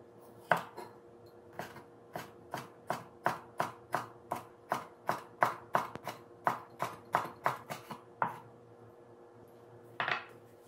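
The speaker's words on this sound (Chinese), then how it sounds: "把1/3的红椒也切成丝备用。" A knife cuts a red pepper into strips on a board, with about twenty crisp, evenly spaced chops in a steady rhythm. The sound is close and clear, with a short pause before one last chop.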